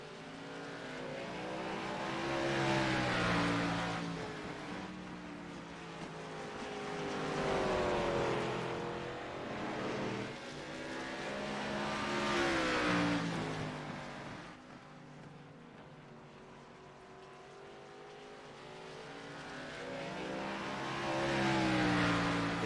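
Several race cars lapping North Wilkesboro in the iRacing IROC Challenge Series, engines droning and rising and falling in pitch as they pass, with swelling passes every few seconds, no talk.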